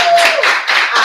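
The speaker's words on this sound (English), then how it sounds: "Give her a round of applause." Brief, loud, close burst of audience clapping at a live kitchen event, with a slightly pulsing rhythm.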